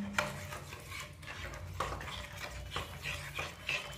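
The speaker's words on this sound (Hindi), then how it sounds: "इसे अच्छी तरह से मिक्स कर लेते हैं।" A spoon scrapes and stirs egg chilli curry gravy in a metal pan, with repeated clinking strokes over a low simmering hiss, close and fairly quiet.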